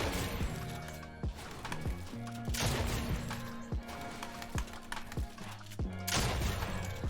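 Gunfire in the Fortnite video game rings out as repeated sharp shots mixed with building and crashing impacts, loud and dense over a steady music-like bed of game sound.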